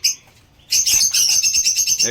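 Pet birds chirp busily while feeding on guava, with a brief call at the start, a short lull, then a dense run of bright, overlapping tweets close by.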